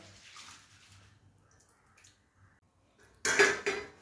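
Urad dal and fenugreek seeds being washed in water by hand, a faint swish early on, then a short loud burst of sloshing, clinking grain-and-water splashing near the end, with no talk.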